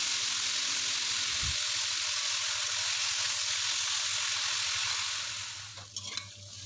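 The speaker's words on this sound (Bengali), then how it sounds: "আমার লাউ শাক ভাজিটা প্রায় হয়ে গিয়েছে।" Bottle gourd greens (lau shak) frying in a pan, a loud steady sizzle with a brief clink early on and a few stirring scrapes toward the end, no voices.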